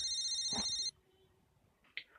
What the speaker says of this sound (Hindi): उन्हीं का फोन है।